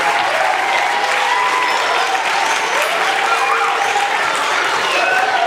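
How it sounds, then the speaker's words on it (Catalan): Audience at a choir gathering applauding, dense sustained clapping from a large crowd, loud and steady throughout with some cheering voices mixed in. "Recordeu que hem dit que veníem a fer un fort aplaudiment també per als membres del Centre de Recursos de la Selva, des d'aquí, Paco, Gemma, Vanessa."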